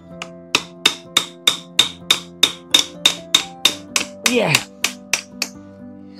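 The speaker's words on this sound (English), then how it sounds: "I need to see if I can do with a soft hammer." A steady series of sharp metallic soft-hammer strikes on a Friedrich Deckel swivel vise, about two per second, ringing with a bright clang; a brief voice cuts in near the end.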